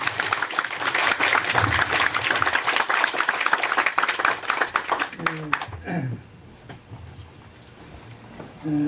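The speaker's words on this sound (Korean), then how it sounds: "우리 한번 청년이엠들 위해서 박수 한번 크게." Congregation at a Korean church youth devotion service clapping hard for the young adults group, a thick burst of rapid hand claps that stops abruptly, followed by someone speaking in a quieter room.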